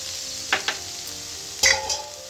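A mixed vegetable bhaji with pumpkin and grated coconut stirred in a pan over a low sizzle, with a few distinct scraping stirs, two close together early and two more near the end.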